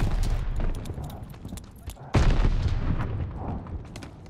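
A grenade blast erupts in the online shooter Call of Duty Vanguard during a Kill Confirmed match, one loud sudden boom midway amid scattered gunfire and battle noise.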